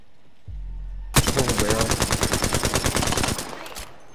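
Rapid automatic gunfire in an online shooter video game, a loud sustained burst of evenly spaced shots lasting about two seconds and then cutting off.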